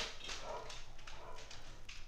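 Several dogs bark in short, repeated yips and woofs from nearby, sharp bursts scattered over a low steady background, with no speech.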